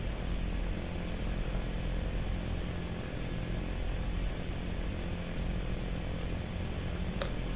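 Propeller airplane engine in the FSX Flight Simulator video game, flying over Papua New Guinea: a steady, unbroken droning hum, moderately loud and constant with no other sounds.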